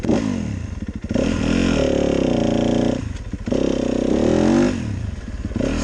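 Motorcycle engine fitted with a new aftermarket exhaust pipe, revving in strong repeated pulls with rising and falling pitch, loud and close, with brief dips between the revs.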